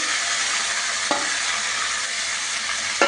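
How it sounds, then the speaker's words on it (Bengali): Potatoes frying in hot oil give a continuous bright sizzle, with a couple of brief stirring scrapes partway through. "এবার আলুগুলোকে ভেজে দেবো।"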